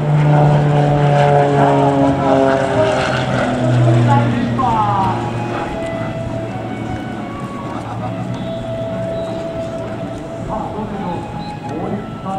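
Propeller aircraft engine droning loudly overhead during an aerobatic demonstration flight at Oarai, with shifting tones as the plane passes, while spectators chatter excitedly nearby.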